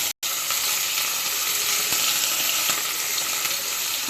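Shutki (dried fish) fritters fry in cooking oil, giving a dense, steady sizzle that holds loud and close from start to finish after a brief silent gap at the very beginning.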